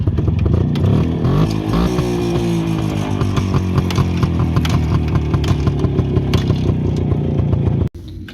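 A WSK125 motorcycle engine running close by, loud and steady with a rattling two-stroke clatter, shifting slightly in pitch before cutting out suddenly at the end.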